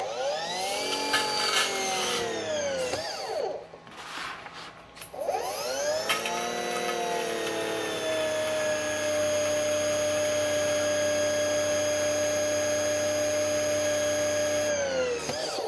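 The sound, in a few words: EGO 56V battery-powered pressure washer running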